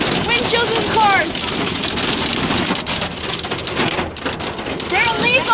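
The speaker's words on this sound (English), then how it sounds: "This is really bad hail." Hailstones from a supercell hammer the roof and windshield of a car in a steady, loud drumming roar, with brief talking near the start and end.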